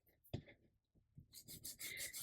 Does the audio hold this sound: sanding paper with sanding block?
yes